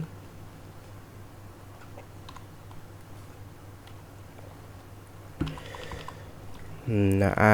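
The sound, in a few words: typing code on a computer keyboard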